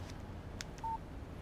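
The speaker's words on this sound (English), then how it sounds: "Text message from Barry." A short electronic text-message signal from a phone in the video game Alan Wake, made of a few quick tone blips and a brief steady beep, quiet and isolated over faint background hiss.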